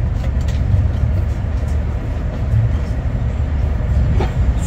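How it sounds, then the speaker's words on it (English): A RENFE AVE high-speed train from Málaga pulls into Madrid Atocha, heard from inside the carriage as a loud, steady, low rumble with faint rattles and no clear voices. "Please remain seated until the train has stopped."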